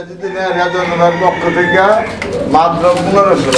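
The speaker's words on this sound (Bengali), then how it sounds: "আর এইখানে আরো একটা কবুতর আছে সিঙ্গেল" Pigeons at a pigeon sale coo softly in low, throaty murmurs, steady in the background beneath people talking nearby.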